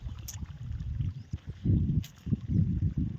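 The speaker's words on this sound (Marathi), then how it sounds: "पाणी आलं पाणी चाललं पाटाने" Water flows through an irrigation channel on a farm, a close, low gurgling and sloshing in uneven pulses, with no speech.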